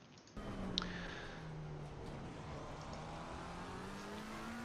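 A McLaren 720S race car engine in Assetto Corsa Competizione starts suddenly and then holds a steady, gradually climbing whine with a brief squeal early on, loud and with no voices.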